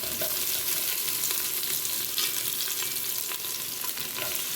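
Onions fry in a pan for coconut pulao with a steady, close sizzle and occasional stirring clicks, and no voices.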